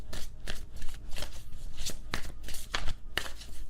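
A tarot clarifier card deck is shuffled by hand in a quick series of soft papery slaps and riffles, close up and without talk.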